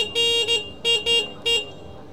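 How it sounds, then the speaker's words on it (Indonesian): A small WMOTO Velora 150 retro motor scooter horn beeps several times in quick uneven bursts, a thin high-pitched toot repeated close by with short pauses between. "kalau misalkan kalian penasaran sama suara klaksonnya"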